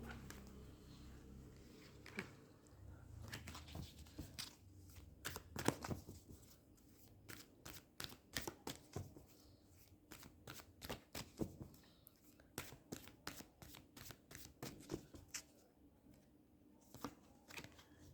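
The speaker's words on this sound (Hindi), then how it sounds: "एक सेकंड ना व्यूअर्स, मेरे कार्ड्स गिर गए।" Dropped tarot cards are gathered up and shuffled close by, giving quick bursts of riffling and flapping card noise with brief pauses and soft handling sounds between them.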